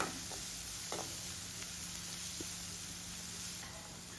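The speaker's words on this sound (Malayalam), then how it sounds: "ഇതിലേക്ക് അരിഞ്ഞു വെച്ചിരിക്കുന്ന രണ്ട് സവാളയും വറ്റൽമുളകും ആവശ്യത്തിന് ഉപ്പും ചേർത്ത് നമുക്ക് വഴിച്ചെടുക്കാവുന്നതാണ്" Chopped onions, dried red chilies and salt sauté in a pan for a tapioca thoran, giving a soft, steady sizzle and hiss with a few faint stirring clicks throughout.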